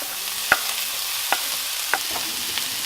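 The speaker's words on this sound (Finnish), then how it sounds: "vaan nyt paistaa ne sipulit siellä" Onions fry in chicken fat in a pan for paella, a steady close sizzle with a few sharp clicks and taps as they are stirred.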